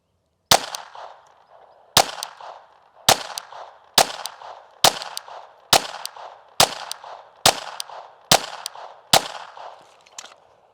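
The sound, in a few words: gunshots from handgun at indoor shooting range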